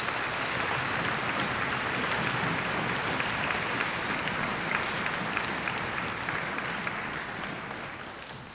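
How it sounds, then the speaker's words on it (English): Concert audience applauding the conductors at a youth orchestra's spring finale, a steady, dense wash of clapping from a large crowd that holds for several seconds before easing off slightly at the end. "Would you please give them a round of applause?"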